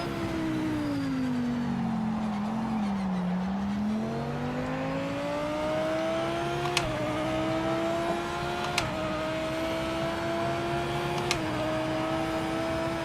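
An Audi race car laps Daytona in a racing game, its engine a loud steady whine that dips, climbs and holds pitch, broken by three sharp gear-shift clicks, with no voices.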